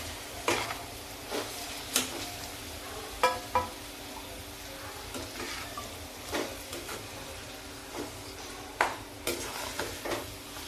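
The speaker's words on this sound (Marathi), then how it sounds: "त्यामध्ये मी टोमॅटो, अद्रक, लसूण आणि खोबरं यांची पेस्ट ऍड करते आणि हे पण चांगलं परतून घेते" A paste of tomato, ginger, garlic and coconut is fried in a pan for egg masala, with a soft sizzle under repeated sharp spatula clacks and scrapes at an irregular rhythm.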